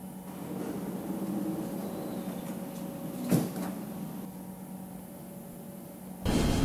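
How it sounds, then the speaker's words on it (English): Train doors close in a Roblox game on an SIE SE-Series train, a hum under a brief sharp thud midway, then a louder shift in sound near the end. "The doors are closing."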